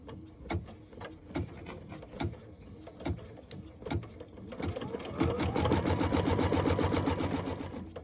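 A sewing machine stitches a basting thread along the side of a Kimberbell Cup of Cheer project. Soft, spaced clicks of handling come first, then a steady rapid stitching run builds up close by, moderately quiet, with no voices.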